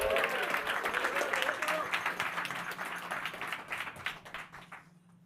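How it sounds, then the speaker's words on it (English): Audience applause at a startup accelerator demo day for AI in energy, a dense roomful of clapping that starts full and loud, then thins and fades out over about five seconds, with a voice faintly audible beneath. "Let's give a big round of applause."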